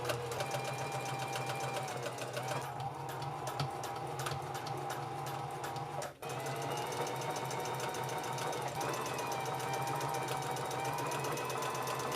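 A sewing machine hems the edge of a cropped t-shirt, running as a loud, steady mechanical whir of rapid stitching with one brief stop midway before it resumes.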